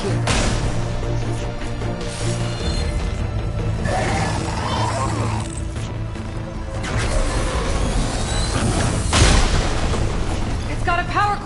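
A booming explosion in an action video game, heavy rumbling blasts with crashing debris layered over game sound and music, with a sharp burst near the end.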